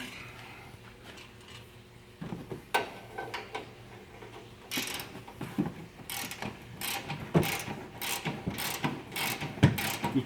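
A hand wrench turned on the upper control arm bolts of a Ram 1500, with close irregular metallic clicks and ratcheting knocks that grow louder and more frequent toward the end.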